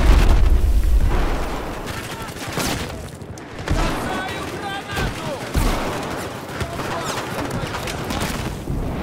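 A rocket launches amid dense gunfire and heavy booms in a Battlefield 4 firefight on Operation Locker. The shots and blasts crowd together at close range, loud and continuous.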